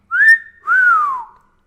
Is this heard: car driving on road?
no